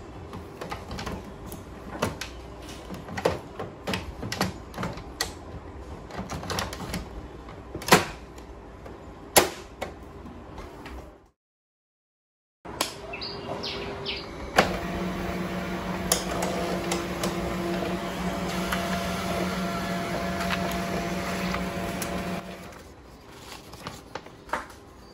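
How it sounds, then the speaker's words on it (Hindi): A Ricoh SP 111 laser printer handles a page. Scattered clicks and knocks come first, then a short silence, then a steady mechanical whir that runs for several seconds before it winds down. "इसे हम करेंगे प्रिंटर में इंसर्ट एंड सेम पेज का प्रिंट आउट लेके हम इसका फाइनल आउटपुट देखेंगे"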